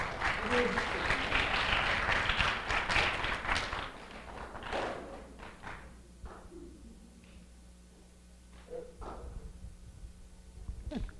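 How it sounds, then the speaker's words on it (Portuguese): Audience applause for a short film made in a 2013 film workshop, dense clapping for about four seconds that then thins into scattered claps and taps with faint voices. "Palmas pro nosso filminho."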